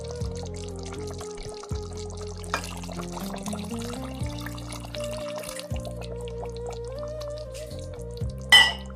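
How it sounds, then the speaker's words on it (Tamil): Hot water pours into cold water in a cooking pot while mutton kabsa is prepared, a running pour with light splashing and drips over a steady low hum, ending in a brief louder splash. "பச்சை தண்ணியில் சுடுதண்ணி சேர்த்தீங்க."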